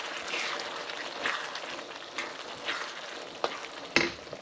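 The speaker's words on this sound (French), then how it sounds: "il y a ma petite sauce qui mijote à côté" A sauce for Senegalese thiebou yapp simmers in a pot with a steady sizzling bubble, joined by a few sharp scraping clicks as it is stirred, close and moderately loud with no voices.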